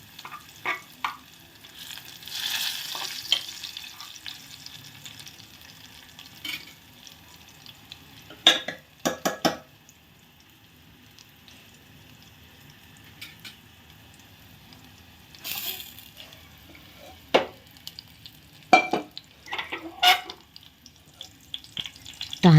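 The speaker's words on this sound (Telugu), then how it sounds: "తాలింపు వేసి పప్పు వేసాక చూడండి చిటపటలాడుతుంది." Hot tempering sizzling in a pan after dal is added, a faint steady crackle under sharp intermittent spoon scrapes and clatters spread across the span; no talking.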